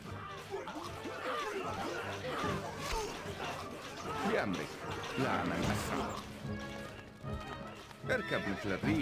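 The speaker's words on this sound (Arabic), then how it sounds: "الفرس تعدو" Horses neigh and hooves clop during a battle in the strategy game Stronghold: Crusader Extreme, with crowd chatter and laughter mixed throughout at a steady, busy level.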